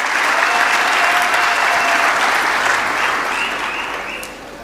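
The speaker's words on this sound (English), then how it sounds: "you can applaud yourself" Sustained applause from a large crowd at the G20 summit, dense and loud, holding steady before tapering off slightly at the end.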